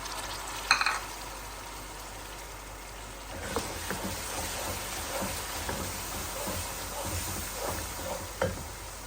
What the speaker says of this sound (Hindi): ये मटर है, हमने आधा किलो मटर लिए थे और उसमें से ये दाने निकले हैं, तो ये हम डाल देंगे।